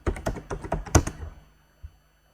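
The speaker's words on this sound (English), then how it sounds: "I will type fitness." Quick bursts of close computer keyboard typing, a rapid cluster of clicky keystrokes ending with a firm key press, then a lone faint tap.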